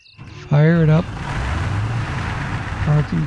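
The MAZ truck in the MudRunner off-road driving game starts up and settles into a low, rough diesel rumble. Someone talks briefly before and after the engine catches.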